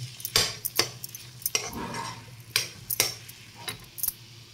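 A spoon clinks and scrapes in a pan as carrot kesari with saffron is stirred, giving several sharp metallic taps at an uneven rhythm, close and moderately loud, with no talking.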